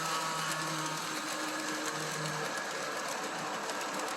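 A brass Williams cab-forward model locomotive runs steadily, a continuous whirring motor hum with a rapid mechanical rattle, close and unbroken throughout.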